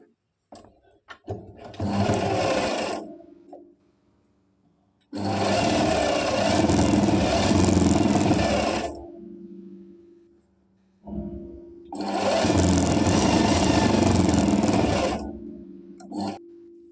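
Sewing machine stitching elastic palazzo pants, running in three long loud bursts of steady mechanical whirring with brief quiet gaps and small clicks between, close by with no talk.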